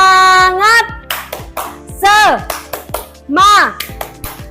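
Students in an Indonesian classroom perform the tepuk semangat clapping ice-breaker, with sharp rhythmic hand claps in quick bursts alternating with loud chanted group voices led by a teacher.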